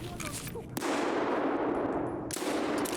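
A shotgun loaded with buckshot fires once in Escape from Tarkov, a sharp loud blast with a long, dense rumbling tail that fades out after about a second and a half.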